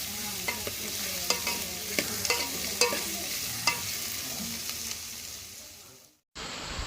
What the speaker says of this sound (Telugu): ఉల్లిపాయ అనేది బాగా మంచి కలర్లోకి వచ్చేంత వరకు అయితే బాగా ఫ్రై చేసేసుకోవాలి.